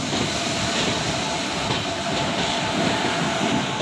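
Steady rumbling roar from inside the early-morning Katwa local train running out of Howrah, an even rolling drone with faint rail clatter throughout and no talk.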